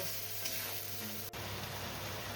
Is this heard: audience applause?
no